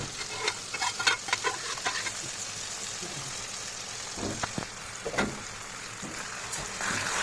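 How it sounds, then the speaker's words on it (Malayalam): Boiled beef lungs stir-fried in a pan with black pepper, frying with a steady sizzle while a utensil scrapes and stirs in short bursts, fairly close and moderately loud, with no talking. "അതിനുശേഷം നല്ലതായിട്ട് ഇളക്കി കൊടുക്കുക."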